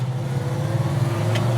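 A 1964 El Camino's engine drones loud and close under acceleration, a steady low rumble that keeps building for a moment with no talk.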